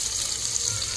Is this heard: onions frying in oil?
yes